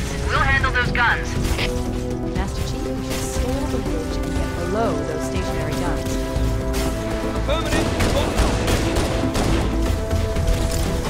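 Covenant gunfire in the Halo video game crackles in dense bursts under a noisy mix of music, effects and voices talking.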